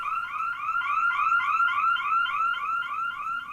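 An alarm going off indoors, a loud repeating warbling electronic tone that sweeps upward in fast, even cycles throughout, with no talk.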